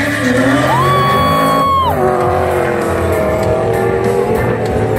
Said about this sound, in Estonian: Ja seda wheelspinni jagus Raulil siin julgelt üks 30 meetrit ja siis teise käigu lülitamisel veel.